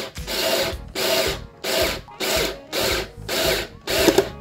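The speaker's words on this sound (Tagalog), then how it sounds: "So drill na natin." INGCO 8V cordless drill driving a screw into wood, seven short whirring bursts with regular pauses between them, close and loud.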